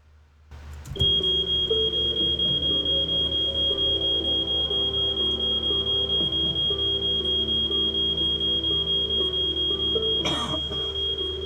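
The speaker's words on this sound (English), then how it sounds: "while it fills with smoke and the smoke alarm goes off" A piercing, continuous high-pitched smoke alarm tone starts abruptly and sounds loudly without pause, with a low mechanical hum beneath it.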